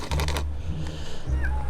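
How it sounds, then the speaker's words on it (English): A kitten trapped inside a partly opened wall on Skiathos meows a few times, with muffled tapping and clatter just before the cries, which sound close and clear. "So somebody's taken away part of this wall, but the kitten's still in there."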